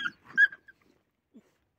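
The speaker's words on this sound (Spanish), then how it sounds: "Los perritos también se pelean." Small dogs scuffling in a brief growling, whimpering burst, a couple of sharp yelps up front, then a faint trailing whine, fairly close.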